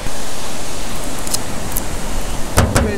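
Sea waves at Cayton Bay, Scarborough wash in as a steady, loud broadband roar close by on a misty shore, with a couple of brief knocks near the end.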